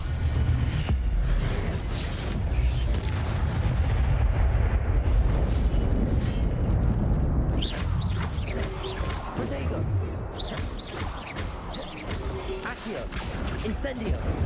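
A spell cast in a Harry Potter video game set at Hogwarts, heard as a dense, continuous roar of crashing, eruptive bursts with sharp impacts layered over a heavy low rumble.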